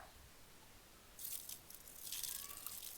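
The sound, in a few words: rinsing a coffee maker with water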